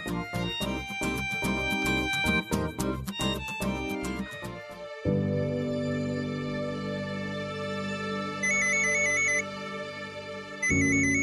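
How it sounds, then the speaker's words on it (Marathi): A phone ringtone chimes in a repeating melodic pattern, starting busy and percussive, then settling into sustained tones with short high beeps recurring. "अगं बाई सिद्धूचा फोन"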